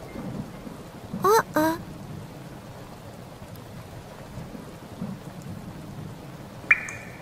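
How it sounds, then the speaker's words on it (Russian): Cartoon rain and thunder for a children's animated truck show: a steady patter of rainfall throughout, broken by a brief double burst of bright cartoon sound effects early on and a short sharp tone near the end. "Капли падают Лёве на носик"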